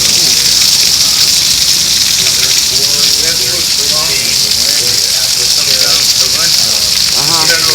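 Heavy rain driven by strong winds gusting around 61 mph in a suburban neighborhood, a loud, steady roaring wash of water throughout with voices talking over it.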